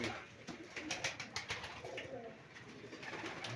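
Pigeons or doves cooing in a poultry yard in the evening, soft repeated throaty coos close by with faint rustling in the background.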